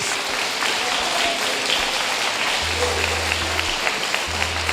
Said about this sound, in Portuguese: dá glória a Deus e aplauda ao Senhor